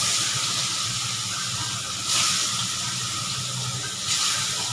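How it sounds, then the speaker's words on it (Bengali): Fish fries in a wok on a gas stove, giving a loud, steady hiss and sizzle that runs throughout and swells briefly twice. "আর ওই কড়াইতে মাছ আর এক পোলা ভাজা বসাই দিচ্ছি।"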